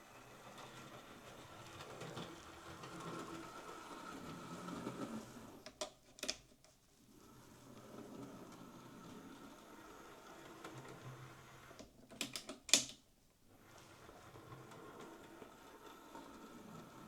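A Hornby Stephenson's Rocket model locomotive runs with a soft, steady mechanical whir and faint clicking, broken by a few sharp clicks and knocks at the middle and near the end.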